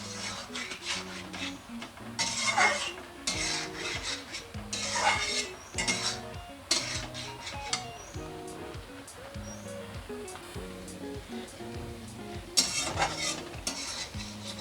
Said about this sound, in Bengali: এবার কিছুক্ষণ কষিয়ে নেব এভাবে।